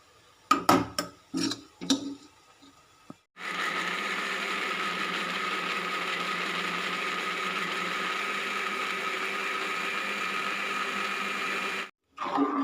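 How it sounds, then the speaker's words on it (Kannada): After a few short clatters, a mixer grinder grinding spices for a curry whirs loudly and steadily for about eight seconds, then stops abruptly before another brief clunk. "ಇವಾಗ ಸಾರಿಗೆ ರುಬ್ಕೊಳ್ಳೋಣ"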